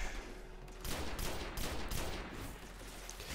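Gunfire in the shooter game Destiny crackles in several quick bursts, sharp repeated shots loud and close with brief gaps between volleys.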